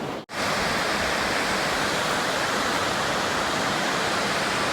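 Loud, steady roar of rushing water pours over the Marsden Diversion Dam on the Colorado Trail, a dense, unbroken wash of noise close by after a brief gap at the start.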